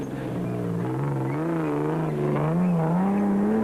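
A Nissan Hardbody rally truck competes in the 2003 Tarka 400 in South Africa. Its engine drones loudly and steadily, revving up and down through the gears, with pitch rising toward the end.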